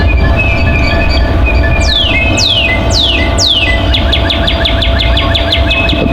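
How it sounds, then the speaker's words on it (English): Morning birdsong rings out loudly outdoors: a few rapid descending whistled notes, then a fast series of repeated chirps, over a steady insect-like drone and low background rumble, with no talk. "The birds are loud this morning."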